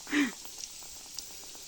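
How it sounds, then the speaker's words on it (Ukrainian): Soft, steady sizzle of yeast-dough cabbage pies frying in hot oil, with scattered tiny pops and crackles; a brief muffled voice-like sound opens the clip. "На гарно розігрітій олії до золотавого кольору."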